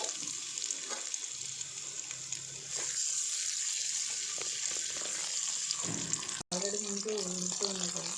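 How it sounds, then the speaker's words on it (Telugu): Dried prawns fry in hot oil with a moderate, even crackle and light stirring, a brief dropout, then a voice speaking over the sizzle toward the end. "నూనె వేడయిన తర్వాత మనం ఎండ్రాయిల్ని ముందుగా వేయించుకోవాలండి"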